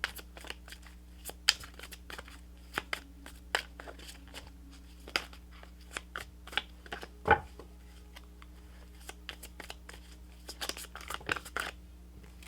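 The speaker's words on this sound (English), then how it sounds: "Cards don't want to shuffle for you" Tarot cards being shuffled, with soft irregular riffles and taps, some sharper snaps, close by and fairly quiet, no talking.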